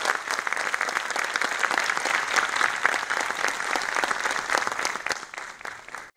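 Audience applause at an awards event, sustained loud clapping from a large crowd that holds steady and then dies away at the end, with no talk.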